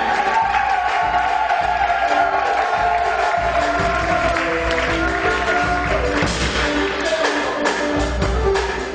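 Congregation at a ministers' conference cheers and acclaims, a loud sustained roar of voices, shouts and whoops with scattered clapping, continuous and close throughout.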